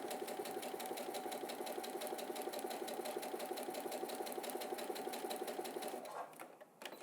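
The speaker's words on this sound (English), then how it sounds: "I'm just going to stitch about 3 inches so I can test my stitch width and my stitch length." A sewing machine fitted with a quarter-inch foot runs a short test seam for patchwork piecing, giving a loud, close, steady rapid whir of stitching that stops abruptly near the end.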